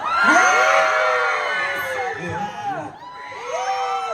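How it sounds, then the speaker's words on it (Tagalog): A fan crowd at a fanfest screams and cheers loudly and continuously, with high shrieks and whoops swelling, a brief dip, then rising again. "Twinkles, pwede po ba kaming makarinig ng isang malakas na sigaw?"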